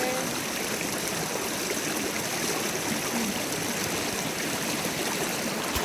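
A river stream flows steadily along a long-distance hiking trail, a continuous broadband rush of water with trickling and gurgling texture, close and fairly loud, with no voices.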